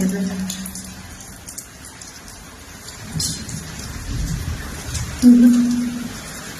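Heavy rain with hail falls in Haryana as a steady, close downpour, swelling toward the end, while people's voices come through over it.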